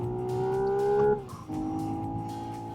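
A Hyundai Ioniq 6 N on the Goodwood circuit gives a loud, close engine-like tone that climbs steadily. It drops sharply at a gear shift, then settles into a lower steady drone.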